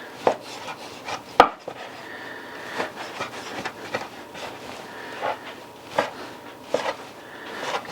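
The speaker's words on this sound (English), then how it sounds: "there's about 1/4 pound of bacon here. So I'm going to cut this up" A knife chops about a quarter pound of bacon into pieces, giving scattered sharp cutting knocks at irregular intervals with a quiet kitchen hum between them.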